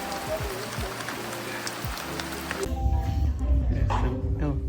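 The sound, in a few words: rain falling on an umbrella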